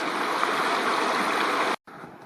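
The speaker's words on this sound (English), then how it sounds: "Successfully crossed the Pipestone River." Pipestone River in Banff's Front Ranges rushing steadily during a backpacking river crossing, a loud, continuous broadband stream roar close by that drops out abruptly near the end before resuming more softly.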